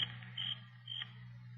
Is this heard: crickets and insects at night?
yes